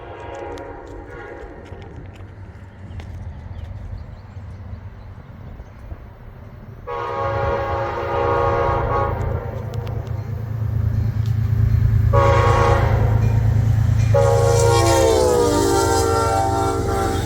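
A model train, a Lionel Rock Island EMD FT, rumbles past with a low steady roar that swells, then loud horn blasts sound in bursts near the end, the last one long.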